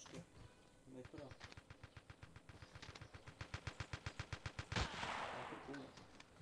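Rapid bursts of automatic gunfire from the Battlefield 2 video game on the Dalian Plant map, a steady rhythmic string of loud shots ending in a heavier blast, with a voice speaking over it.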